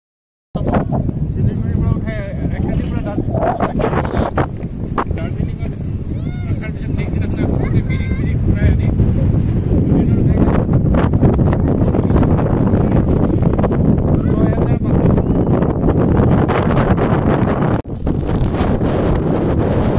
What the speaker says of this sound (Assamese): মই বতাহটো আপোনালোকক শুনাই আছো আপোনালোকে শুনক